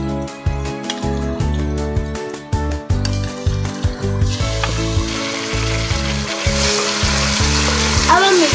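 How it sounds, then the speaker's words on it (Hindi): Light-brown onions frying in a pan with garlic, ginger and green chili paste, a steady loud sizzle and crackle with stirring scrapes, no talking over it. "अब हम इसे 2 मिनट तक फ्राई करेंगे।"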